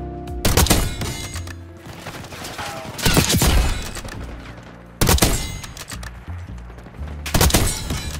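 Bursts of loud gunfire in the video game Call of Duty: Black Ops 6, several heavy volleys spaced a couple of seconds apart with rattling echoes between them.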